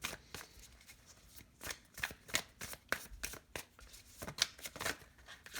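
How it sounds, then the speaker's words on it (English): A deck of tarot cards is shuffled by hand, giving quick close riffling bursts in an uneven rhythm that start and stop repeatedly in a quiet room. "Let me get some more cards on that."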